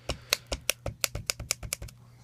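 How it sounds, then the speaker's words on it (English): A pencil taps repeatedly on drawing paper, about a dozen crisp, close taps in a quick, slightly uneven rhythm, with no other sound. "I'm going to use my pencil and just tap the paper"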